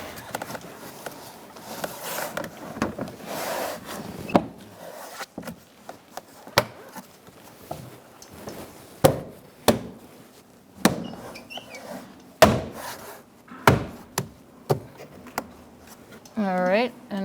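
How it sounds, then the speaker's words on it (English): A rear door trim panel on a 2002-2006 Honda CR-V is pressed back into place, giving a series of sharp plastic snaps and clicks at irregular intervals, with someone talking throughout. "Now you can press the door panel in."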